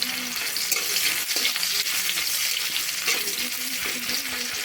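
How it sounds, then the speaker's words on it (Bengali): Onion frying in hot oil in a pan with dried red chilli, bay leaf and whole cumin, a close, busy sizzle broken by stirring scrapes and clatters throughout. "পেঁয়াজটা একটু ভেজে নেব।"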